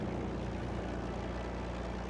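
A propeller warplane engine in the World of Warplanes video game drones loudly and steadily, a continuous close roar with no break.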